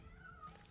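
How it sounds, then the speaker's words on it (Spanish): A kitten gives a single faint, drawn-out meow, thin and tonal, heard quietly against a low background hum. "un gatito."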